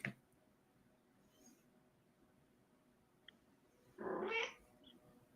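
A house cat lets out a single short, drawn meow near the end, close by in an otherwise quiet room with a faint earlier chirp.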